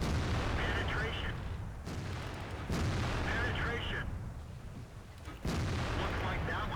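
Repeated heavy tank cannon fire in World of Tanks, including a 15 centimeter gun, with three loud booming shots spaced a couple of seconds apart, each followed by a rumbling decay under faint voices.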